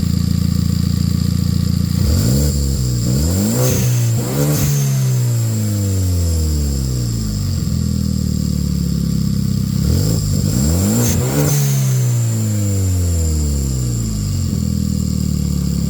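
A car engine with ruined pulleys starts up and runs rough, with repeated revving swells and a clattering, whining mechanical noise, loud and close, with no talking.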